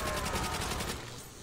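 Rapid gunfire from the zombies mode of Call of Duty: World at War on the Shi No Numa map, a dense burst of rattling shots that carries loud and steady for over a second before trailing off.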